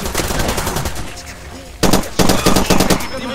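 Automatic weapon fire in Far Cry 2, with bursts of rapid, loud, close shots, a short lull in the middle, then several more clipped bursts.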